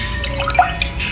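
Homemade shampoo drips through a filter held in a basket, a few soft, close drops falling over a low background hum.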